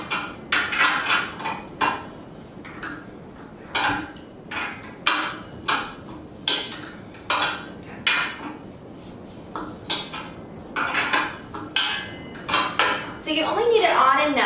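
Metal tools clinking and ratcheting against metal parts while tightening hardware on an AeroPilates reformer during assembly, with irregular close taps and clanks throughout and faint talk in the background.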